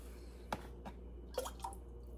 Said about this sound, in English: here goes the oil